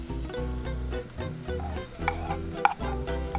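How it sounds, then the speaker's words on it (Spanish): Onion and green pepper sauté in a pan while being stirred, with a soft, continuous sizzle and a few light scrapes and taps of the utensil. "Le damos una vueltita para que se vaya sofriendo"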